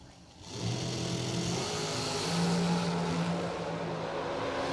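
A 615 cubic inch Chevrolet dragster engine at a New Hampshire drag strip rumbles and revs in the distance, a steady roar with a brief swell, under an open outdoor ambience.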